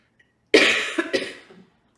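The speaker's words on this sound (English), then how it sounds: "I am fighting a cold, so bear with me with the coughing" A person fighting a cold coughs in a short burst: one loud, harsh cough followed by two or three weaker hacks, close to the mic in an otherwise quiet room.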